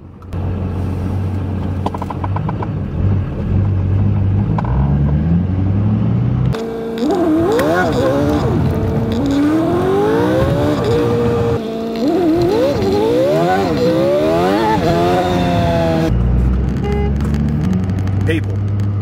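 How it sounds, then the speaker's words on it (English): A 500hp LB7 Duramax diesel pickup with a manual gearbox drives in traffic, its engine rumbling steadily and then climbing and falling in repeated rising sweeps as it accelerates through the gears, loud and close throughout. "People don't realize that I'm driving a truck here."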